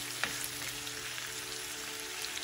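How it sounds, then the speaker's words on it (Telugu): Onions frying in a pan give a steady, dense hiss and soft crackle, even and continuous at moderate level, heard alone without voices. "ఉల్లిపాయలు కొంచెం మెత్తగా అయ్యే వరకు వేయించుకోవాలి."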